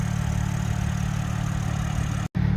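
A 2022 BMW M3 Competition xDrive engine idles steadily while warming up, with a low, even rumble, close by, before a brief dropout near the end.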